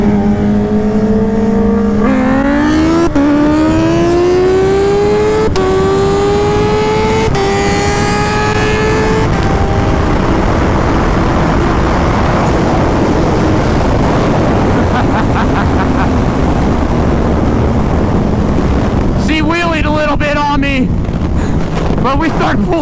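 Turbo Hayabusa and Ninja H2 motorcycles racing, engines winding up in rising pitched sweeps between quick shifts, heard close over heavy roaring wind noise that dominates the second half.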